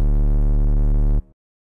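Serum synth sub bass patch with reverb added, a loud, steady low tone holding for over a second, then cut off, leaving a short reverb tail that fades quickly into silence.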